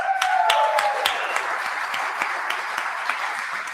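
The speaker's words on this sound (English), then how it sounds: "let's give a big round of applause to Jen Isarelli" A conference audience bursts into loud, sustained applause for a speaker, dense clapping with a few sharp individual claps standing out, steady throughout with no voices on top.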